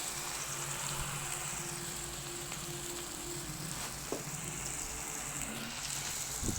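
Onion frying in hot oil in a home kitchen, a soft continuous sizzle and crackle heard at close range with faint stirring clinks.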